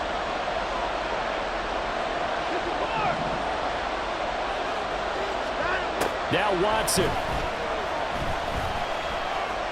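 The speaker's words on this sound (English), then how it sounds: "That just means this crowd's going to get even louder." Football stadium crowd at a Browns at Panthers game roars in a continuous dense wash of noise, swelling briefly around the middle, beneath a play-by-play commentator's voice.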